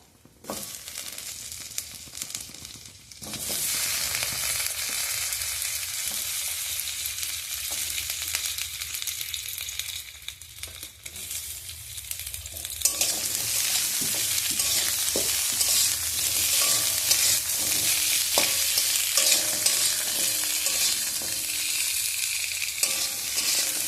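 Cut potatoes frying in oil in a pan for a home-style aloo begun niramish torkari, a loud continuous sizzle that swells after a brief quiet start, with occasional stirring scrapes and no talking.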